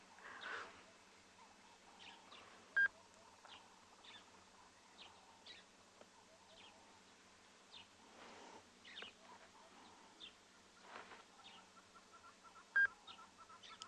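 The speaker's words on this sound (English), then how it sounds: "You can hear the hornbills." Hornbills calling during a morning safari in South Africa, with repeated short, faint chirping calls scattered over quiet outdoor ambience and two brief sharp beeps.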